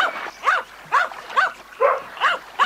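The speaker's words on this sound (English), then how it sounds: "Stop barking." A dog barks in an audiobook scene: six or seven sharp, evenly spaced barks in quick rhythm, close and loud, with no talk over them.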